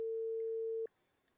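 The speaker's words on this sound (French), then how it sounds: "Est-ce que tu entends une petite sonnerie aussi" A single steady electronic tone on a telephone line holds for almost a second, then cuts off abruptly, leaving faint line hiss.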